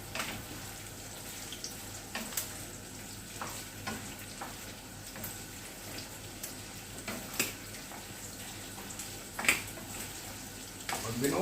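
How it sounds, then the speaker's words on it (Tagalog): Hot water is poured over raw pork in a kitchen while cooking binagoongang baboy. A soft, continuous splashing and hiss is broken by scattered clinks and knocks of cookware, with a faint voice in the background. "Pinubuhusan ko lang mainit na tubig"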